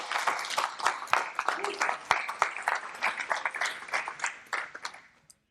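An audience at a French talk on human permaculture applauds the event's sponsors and organisers, lively clapping with distinct close claps and uneven surges that thins out and stops near the end, with some voices underneath.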